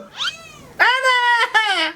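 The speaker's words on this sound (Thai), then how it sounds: "แมวกูขี้บ่นจังวะ" A cat meows three times in quick succession, close and clear, each call rising then falling in pitch, with the last two long and strident.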